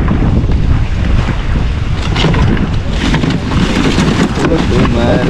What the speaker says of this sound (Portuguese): Ó, tá vindo vento com força.